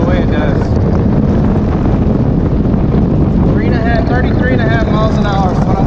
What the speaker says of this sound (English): My motor at 33 miles an hour. Pretty much I got it full throttle.